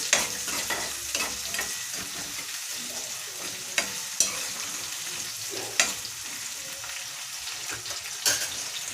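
Chopped onions and green chilies hitting hot oil over high heat, a dense continuous sizzle with sharp scraping clicks of a spatula stirring the pan every second or so.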